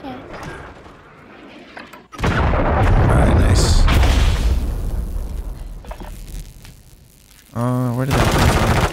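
Cruise missile explosions and gunfire in a shooter video game: a heavy rumbling blast and rattling fire fill the middle of the clip over faint background sound, followed by a burst of mechanical whirring near the end.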